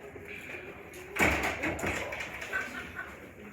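A door is pushed shut in a room about a second in, giving a thud with a short rattle, followed by faint handling noise and light room sounds.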